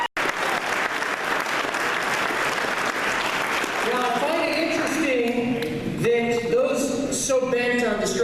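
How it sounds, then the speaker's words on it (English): An audience at the Liberty State Gala applauds military veterans, with dense sustained clapping filling the room and voices calling out over it, loud and close. "Let's give a round of applause."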